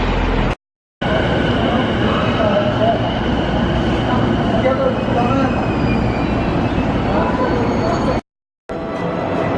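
A loud, steady rumble of a train in motion near Kawasaki, Japan, with rattling and whining that carries on continuously apart from two brief dropouts.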